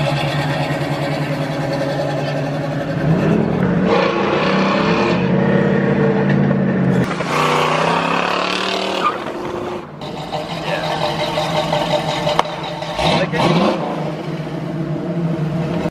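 A Chevrolet Camaro's engine and exhaust rev and drone close by in several rising and falling surges, loud and raspy, with short dips between pulls.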